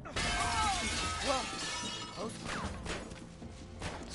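A shattering crash in the video game Uncharted 3: Drake's Deception, a burst of breaking debris mixed with game effects and excited talk over a busy background.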